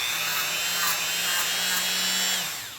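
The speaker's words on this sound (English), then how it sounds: "then I'll take the wire brush and give it a polishing" A rotary wire brush polishes a metal slider wiper from a LinnDrum drum machine, a loud high steady whine with a low motor hum underneath, running for a couple of seconds before spinning down.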